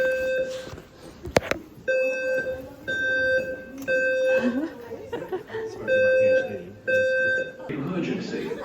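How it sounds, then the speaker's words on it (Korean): An emergency evacuation alarm at a school in Melbourne during orientation week sounds a loud steady tone in repeated on-off pulses, with people talking and laughing beneath it. "갑자기 이런 알람음이 울리면서 나가라고 해서 갑자기 나가고 있어요"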